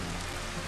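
Steady rain falling in a video game, a dense, even hiss with soft pattering close by and no talking.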